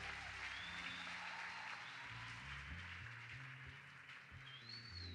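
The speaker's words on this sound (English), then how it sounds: "Let's give a clap offering unto the Lord" A church congregation at an evening youth camp prayer session gives a clap offering, a continuous wash of many people clapping that stays faint and even throughout, with low music tones sounding underneath.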